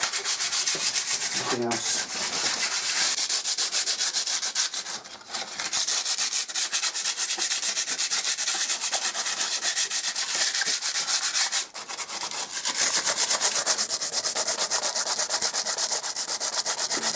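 Steady hand scuffing of an old, flaky painted surface with abrasive to key it for paint, a continuous close rubbing rasp with only a few brief pauses.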